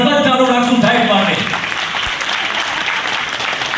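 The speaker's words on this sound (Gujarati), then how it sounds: "એટલે 1 મિનિટ માટે તાળી સતત ચાલુ રાખશું સાહેબ માટે" A temple gathering honouring a Jalaram temple trustee breaks into applause, a dense burst of clapping that starts over a voice and then thins out.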